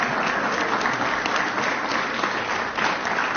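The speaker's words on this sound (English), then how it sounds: "And y'all gave him a hand clap." Dense audience applause, many hands clapping steadily and loudly throughout with a faint crowd murmur.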